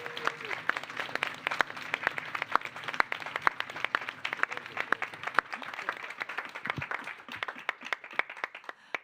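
A conference audience at EuroDIG 2024 applauding a team: dense, sustained clapping from many hands, lively and fairly loud, with a faint voice briefly underneath.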